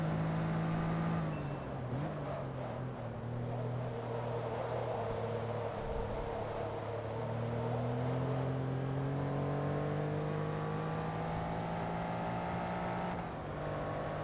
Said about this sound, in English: Oops, rev limiter.